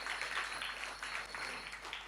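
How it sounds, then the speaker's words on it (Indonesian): An audience applauding at the 33rd anniversary celebration of Swarga Loka School of Dance, a steady wash of many hands clapping throughout, fairly distant and even. "Kita berikan tepuk tangan untuk 33 tahun Swarga Loka School of Dance."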